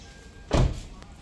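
A single solid thunk as the door of a heavily modified Toyota Mark X shuts, close and fairly loud, with a short muffled tail and quiet surroundings before and after.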